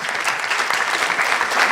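A large audience at a national quiz championship launch applauds as a sponsor approaches the podium, a thick, even roar of many hands clapping continuously and loud.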